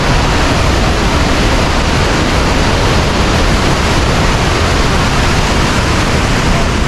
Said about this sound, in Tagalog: Tapos, ito yung falls.